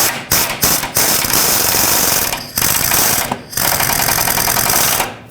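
A ratchet snugs the top nut onto the steering damper bolt of a 2008-2010 Ford F-250, loud and close, a few quick separate clicks and then long sustained runs of rapid clicking broken by brief pauses.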